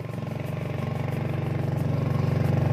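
A motorcycle engine labors up a trail, a close, steady low throb with rhythmic pulsing that builds slightly in loudness over time, with no speech.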